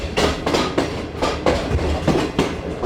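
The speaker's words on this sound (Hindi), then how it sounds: "और ये आ गई हमारी खूबसूरत सी शालीमार एक्सप्रेस" Shalimar Express passenger train rolling past at close range, a steady loud rumble with rhythmic clickety-clack of wheels over rail joints near a diamond crossing by a loco shed, with no voices.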